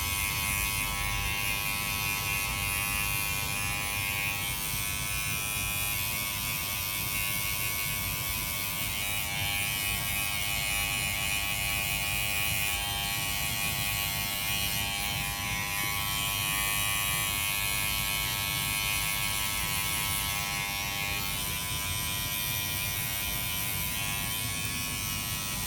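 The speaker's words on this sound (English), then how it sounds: "that's when you can use a trimmer, a T-liner" Electric hair trimmer, a T-liner, cutting hair in a barbershop, giving a steady close-up buzz with a constant electric hum that runs unbroken throughout.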